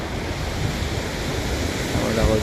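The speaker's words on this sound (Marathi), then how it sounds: "तिकडे लगेच समुद्र आहे" Ocean surf at Devbag beach in Malvan washes onto the shore in a continuous rushing roar, with wind buffeting the microphone.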